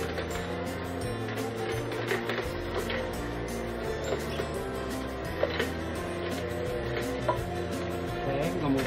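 An inexpensive Temu juicer runs with a steady mechanical whir and faint ticking, low-pitched motor hum and gear-like clicks continuing throughout, fairly quiet, with a few brief knocks.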